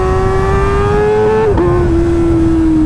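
A Kawasaki ZX-4R motorcycle with full carbon parts screams at very high revs, a loud, steady high-pitched engine wail that dips briefly with a gear change, then holds again.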